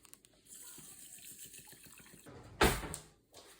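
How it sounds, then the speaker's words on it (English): Water from a 16.9-ounce plastic bottle poured into a pot, a soft trickle and gurgle followed by a brief louder splash near the end, close and alone without talk. "So I'm just going to pour this whole water bottle into here."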